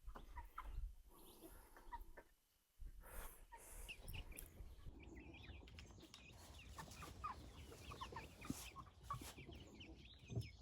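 Several chickens cluck and murmur continuously nearby, a soft chattering flock with occasional louder squawks and scratching.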